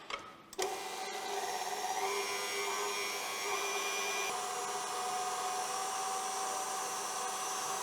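An electric mixer beats eggs, butter, buckwheat flour and wheat flour with a steady close whirring hum that starts abruptly and runs on continuously, with no talking.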